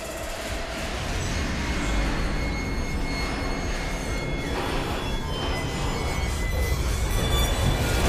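A train in the game Fallout London runs steadily with a loud, continuous rumble of wheels on rails, high metallic squealing threaded through it, and no voices.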